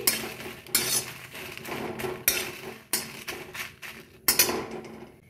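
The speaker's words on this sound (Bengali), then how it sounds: "প্রথমে লঙ্কাটা একটুখানি ভেজে নিচ্ছি" Dried red chillies are frying in a pan for a kul (jujube) pickle, with a repeated metal spoon scraping and clinking against the pan over a low sizzle.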